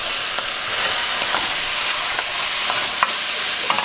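Onion browning in a frying pan for Hungarian goulash gives a steady, close sizzle with a few faint clicks of stirring, and no one speaks.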